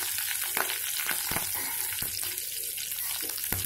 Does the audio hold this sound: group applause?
no